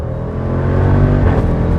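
Jeep Grand Cherokee Trackhawk engine running under load, a close, loud rumbling roar with a faint thin whine of its supercharger riding on top, briefly building and then holding steady.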